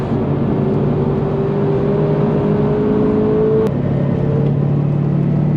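A Subaru on a race track at speed, its engine droning steadily with a rising whine that cuts off sharply partway through, then settles back to a lower hum, loud and close from inside the car, no speech.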